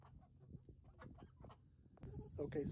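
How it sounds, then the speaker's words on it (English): Chickens, ducks and a rooster in a farmyard enclosure give scattered clucks and squawks close by, the calls growing busier and louder toward the end over a low background. "here are the ducks, the rooster, the hens in their enclosure"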